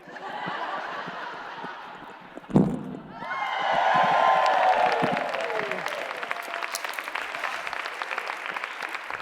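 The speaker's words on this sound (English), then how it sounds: "keep that applause going" Audience applause at a live comedy show swells after a sharp thump, building into sustained dense clapping from a crowd that carries on steadily to the end.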